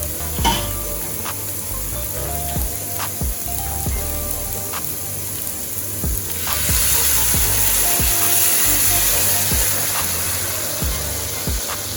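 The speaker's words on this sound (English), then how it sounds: "Let this cook for 5 minutes before adding my shrimp." Jamaican-style curry with coconut milk and pimento grains sizzles steadily in a pot, a continuous close frying hiss with scattered sharp ticks and occasional utensil knocks, growing a little louder about halfway through.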